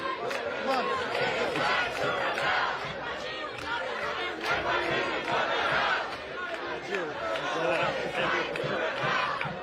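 A large protest crowd chants in unison at an NYPD police line on a New York City street, dense overlapping voices loud and close throughout with rhythmic shouted phrases.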